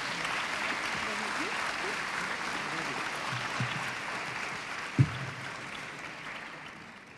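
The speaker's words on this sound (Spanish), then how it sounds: "Un fuerte aplauso, por favor" Applause from an audience at a Congress library debate tournament gathering, a soft, distant, even wash of clapping that fades slightly toward the end. A single thump stands out near the close.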